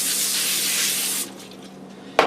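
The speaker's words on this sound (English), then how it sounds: "I'm going to put a little bit of spray on this," Vegetable cooking spray from a can hisses onto parchment paper over a cookie sheet in one steady, close burst of a little over a second, then stops, followed by a sharp click near the end.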